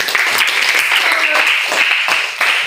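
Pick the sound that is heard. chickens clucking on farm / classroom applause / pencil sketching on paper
classroom applause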